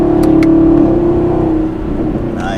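A 2019 Chevrolet Camaro SS with a V8 and 10-speed gearbox rumbles loudly as it accelerates after a downshift, a steady close engine drone that eases slightly toward the end, with no talking.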